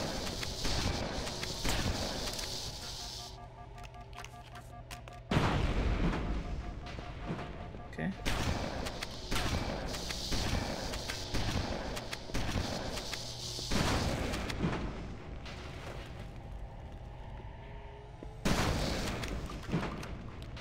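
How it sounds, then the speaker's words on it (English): Gunfire in a Halo game, repeated sharp shots and booming blasts scattered through a long firefight, with a voice talking over the action at times. "It takes way too many normal gun shots for them."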